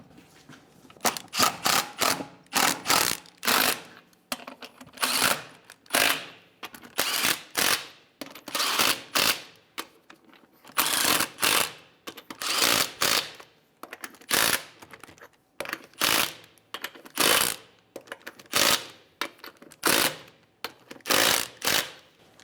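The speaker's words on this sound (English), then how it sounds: "Snug the nuts down." A ratchet snugs down the ball joint nuts on a 2008–2017 Buick Enclave in a garage, giving bursts of rapid clicking separated by short pauses over many repetitions, close and fairly crisp, with no talk.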